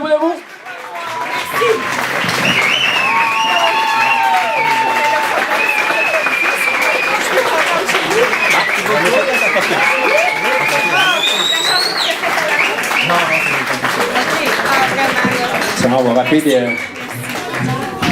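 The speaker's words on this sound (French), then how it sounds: "Je pense que ça mérite une très bonne main d'applaudissement pour Thomas Hudson" A standing audience gives sustained, loud applause for Thomas Hodgson, dense clapping mixed with cheers and whistles from a crowd that goes on for many seconds without pause.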